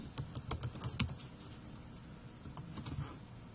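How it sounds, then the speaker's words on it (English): Quiet rapid keystrokes on a computer keyboard, a brief burst of clicks typing a word into a search box, then softer scattered taps. "So if we now type in acquisition"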